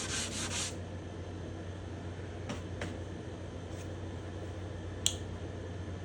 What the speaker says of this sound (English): now we're just kind of doing essentially a final sanding before French polishing